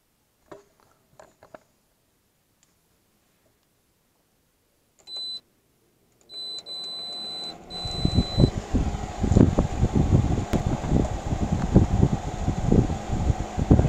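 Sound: 6000 BTU window air conditioner starting up, fan running

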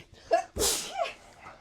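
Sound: sneeze

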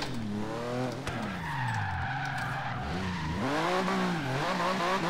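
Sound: 1995 Porsche 911 GT2 drifting, tires skidding, Forza Horizon 3 video game

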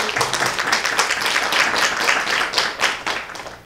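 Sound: audience applause

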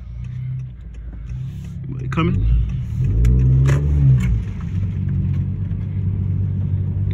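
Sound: 2019 Honda Accord 1.5 with AEM intake accelerating

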